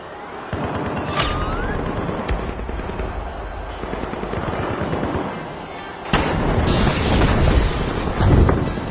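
A frag grenade blows up during a ranked tournament match in the shooter game The Finals, loud booms and crackling gunfire packed into a dense, continuous barrage of battle noise.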